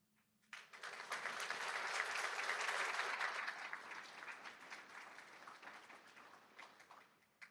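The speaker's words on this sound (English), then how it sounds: "I would like everyone to take a moment to give a round of applause for the advisors of our 2 chapters" A seated ceremony audience breaks into sustained applause for college honor-society chapter advisors, starting abruptly, building to a dense peak of clapping, then gradually thinning out while still going.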